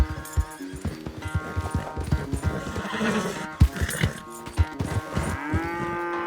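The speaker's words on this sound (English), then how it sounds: "Where's that big mean horse?" Horse neighs and whinnies with hoof clip-clop in the Red Dead Redemption 2 video game, several loud close whinnies over irregular hoof beats and some lowing-like animal calls.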